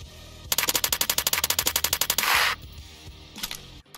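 A video game gun fires a rapid automatic burst of about twenty sharp, evenly spaced shots, ending in a brief hiss, then a couple of faint clicks after a pause.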